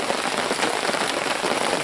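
Steady rain falls hard on a river hunting trip, a dense unbroken hiss of drops pattering on surfaces close by, with no voices.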